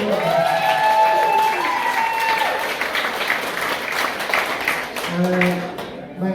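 An audience breaks into applause, a dense wash of clapping sustained for several seconds while a voice carries on speaking over it.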